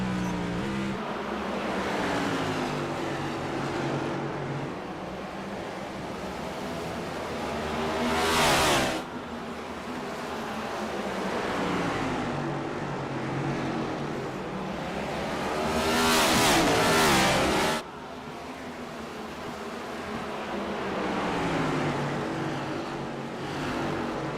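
Race cars at Martinsville roar continuously as they accelerate out of the turns. The loud engine drone swells and fades with two sharp passing bursts, and no voices are heard.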